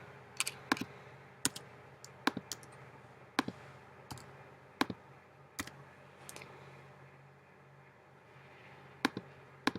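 Computer keyboard clicks and typing, sharp separate taps at an irregular pace, fairly quiet against a soft background hiss.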